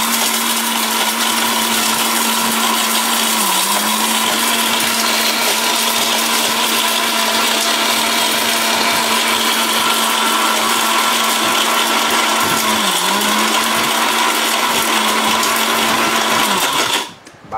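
A robot multi cooker's blender grinds turmeric with a loud, steady high-speed whir that holds constant pitch for about seventeen seconds, dipping briefly twice, before cutting off abruptly at the end.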